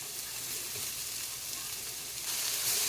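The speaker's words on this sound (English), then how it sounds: "So I'm sauteing it about for like 5 minutes." Thyme and garlic sauté in a pan for Jamaican jerk shrimp pasta, giving a soft, steady sizzle close by that swells slightly louder near the end.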